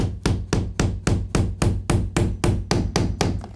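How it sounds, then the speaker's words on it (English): A hammer drives a nail through quarter round molding into MDF flatboard during baseboard installation, thirteen sharp, evenly spaced whacks about a quarter second apart, loud and close with no voices. "And I'm nailing this through the quarter round into the MDF flatboard."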